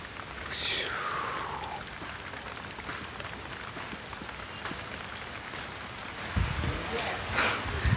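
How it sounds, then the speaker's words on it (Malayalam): Heavy rain falls on Malayattoor lake as a steady, moderate hiss of dense drops, with a brief tonal sweep early on and a few louder low thumps near the end. "ഈ തടാകത്തിലേക്ക് നോക്കിയാൽ നിങ്ങൾക്ക് മനസ്സിലാവും ഇവിടെ നല്ല മഴയാണ്"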